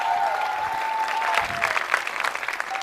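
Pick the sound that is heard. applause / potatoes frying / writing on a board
applause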